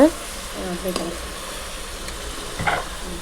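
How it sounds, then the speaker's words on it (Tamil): Chicken coated in chilli powder, garam masala, chicken masala and salt frying in a pan, with a soft steady sizzle, a few stirring scrapes around the one-second mark and a brief clatter near the end. "மிளகாய்த்தூள் கரம் மசாலா சிக்கன் மசாலா சிக்கனுக்கு உப்பு எல்லாம் போட்டுட்டு அது நல்லா வதக்கிக்கோங்க"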